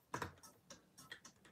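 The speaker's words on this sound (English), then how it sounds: "I'm gonna type that up." Typing on a computer keyboard during a quiz game, a handful of quiet, close key clicks in an uneven rhythm with short pauses between.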